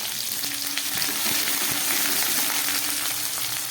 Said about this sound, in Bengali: তারপরে দিয়ে দিচ্ছি কাঁচা লঙ্কা, দিয়ে দিচ্ছি গ্রেট করা আদা